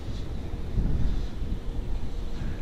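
Steady wind rushing across an outdoor microphone, a broad low rumble that swells briefly and stays fairly loud throughout, with no voices.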